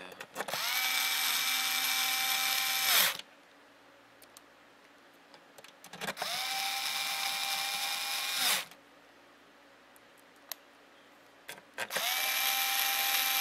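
Power screwdriver driving Phillips screws into a Liteon DVD drive for an original Xbox 360, three bursts of high whirring each lasting a few seconds, with small clicks between.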